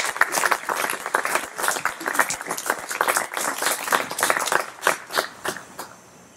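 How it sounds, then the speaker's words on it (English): Congregation clapping during a worship service, a crisp rhythmic patter of many hands that grows sparser and trails off into a few last claps, with faint voices under it. "I want to give you a round of applause."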